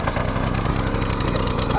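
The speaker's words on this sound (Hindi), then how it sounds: "हमने ट्रैक्टर स्टार्ट कर दिया है" A small pull-start tractor engine on a farm field, caught just after starting with the choke on, running in a steady, fairly loud mid-pitched chug that continues without a break.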